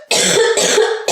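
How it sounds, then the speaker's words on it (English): A single person's cough during a casual knitting chat, sharp and close, with two or three rough bursts in quick succession. "Excuse me. Coughing."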